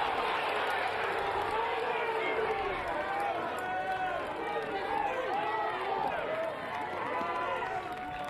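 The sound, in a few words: baseball crowd reacting unhappily to an umpire's call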